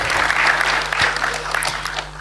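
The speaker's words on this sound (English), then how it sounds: "Let's welcome her with a round of applause." An audience at a launch event in Ghana gives a round of applause, with dense, steady clapping that tapers slightly toward the end.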